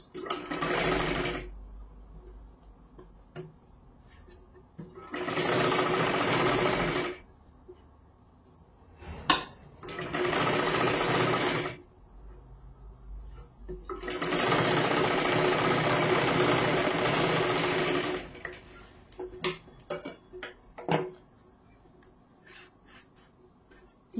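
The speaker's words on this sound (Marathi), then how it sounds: "आता इथे एक पूर्ण शिलाई मारून घ्यायची आहे।" A sewing machine stitches a full seam on the lining of a size 36 blouse with four tucks. It runs in several loud, steady bursts with quiet pauses between them.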